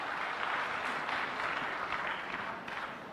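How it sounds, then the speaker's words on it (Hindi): Audience applause for the panelists at Centurion's 16th annual celebration, a dense, steady wash of clapping that carries evenly through and eases slightly near the end. "एक बार जोरदार तालियां हो जाए हमारे पैनलिस्ट के लिए"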